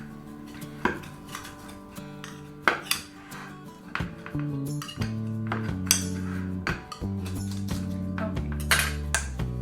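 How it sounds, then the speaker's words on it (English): A butter knife scrapes and clinks against the metal sides of a brownie pan, a series of sharp clanks and rubbing strokes at close range, with a brief spoken word. "I have a butter knife. Release the sides."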